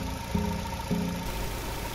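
A car engine idling steadily during a mass airflow sensor diagnosis, a low even hum with two faint knocks early on, close by and with no talk.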